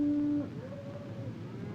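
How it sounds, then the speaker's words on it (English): A cow from a large northern cattle herd gives a single drawn-out low moo, moderately near, which fades into a quiet background. "Cattle."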